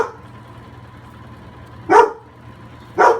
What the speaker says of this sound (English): That's Patriot Puppy in the background